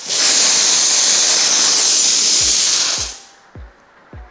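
A Dampf Drache 22170 Plus dry steam cleaner, used for vehicle detailing, releases a loud, continuous hissing blast of steam for about three seconds, then cuts off, followed by several short, low knocks.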